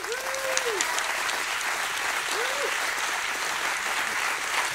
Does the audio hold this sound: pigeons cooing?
no